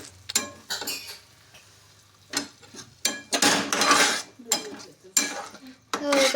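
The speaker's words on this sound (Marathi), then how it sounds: "आता त्याला मस्तपैकी हलवून घेऊ आपण." Tomato chutney with coriander is stirred in a pan, with bursts of scraping and clinking of a spoon against metal and a faint sizzle, close and loud in uneven strokes, with no talk over it.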